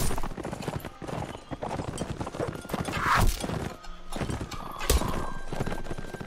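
Horse hooves clip-clop and gallop in the Mount and Blade Warband battle game, a steady close pounding rhythm with a brief whinny partway through, amid busy game noise and no talk.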